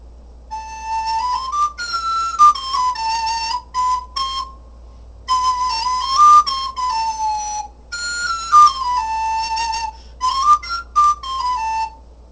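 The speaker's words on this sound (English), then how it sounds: "So that's the soprano recorder" A bright, clear soprano recorder plays a lively melody alone, with phrases separated by short pauses and some quick ornamented notes.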